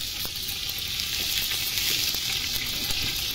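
Oil sizzling in a pan while beef khichuri cooks, a bright continuous crackle with a few soft stirring scrapes underneath and no talking.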